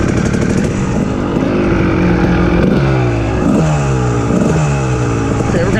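A Kawasaki KX dirt bike engine runs loud and close, its steady idle note swelling into repeated revs with rising and falling pitch sweeps.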